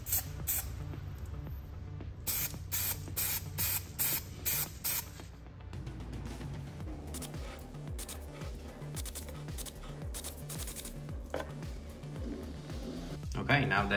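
Gloss white automotive paint sprayed onto simulator cockpit panels outdoors, in a run of short hissing aerosol bursts, then a longer steady spray pass with wind and low background rumble; close and fairly loud.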